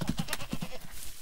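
Sheep bleating in a quick, quavering run of short pulses, fairly faint and heard alone.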